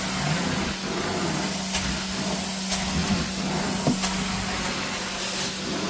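A carpet-cleaning vacuum drawing water out of a 20-year-old carpet gives a steady, loud suction roar and hiss with a low hum, plus a few brief gurgles and clicks.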